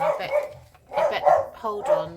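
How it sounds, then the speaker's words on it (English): A pet dog named Paddy barks indoors in loud, repeated bursts, several sharp woofs and yips close by, with a person talking over and between them. "excuse my dog barking."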